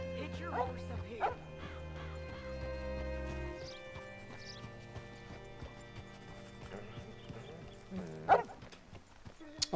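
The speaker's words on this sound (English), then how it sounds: "Oh, there's a doggy right there." A dog barks a few times in a Red Dead Redemption 2 scene, with horse hooves clopping and low music underneath while a voice talks.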